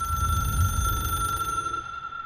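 A phone rings inside the video game Control, a steady electronic bell tone holding under a low rumbling game soundtrack, loud and close before fading near the end.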